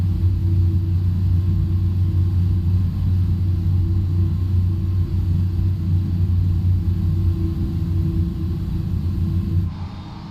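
An MD-11 airliner engine number 2 in a flight simulator spooling up, a steady loud low rumble and drone that holds throughout, easing slightly at the very end.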